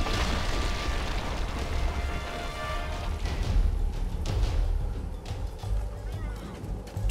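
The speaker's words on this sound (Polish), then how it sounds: "I wysadzamy ich." An explosion blows up enemies in the Tomb Raider video game, a loud booming blast that rolls into a sustained low rumble with scattered debris pops and game sounds, with someone talking over it.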